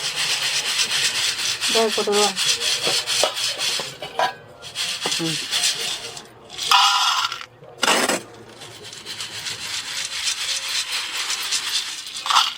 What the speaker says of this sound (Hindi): तो इसी तरीके से किसी भी अनाज को भून सकते हैं।